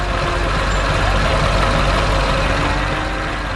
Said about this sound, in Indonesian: ada mesin konstruksi kuning yang sedang bekerja keras dengan semangat yang luar biasa